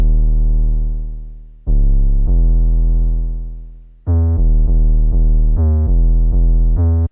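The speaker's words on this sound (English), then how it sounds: "I got an 808 that sounds like this" Heavy, sustained 808 bass in an FL Studio moombahton remix, booming alone: two long notes sliding down in pitch, then a choppy run of short, loud repeated hits.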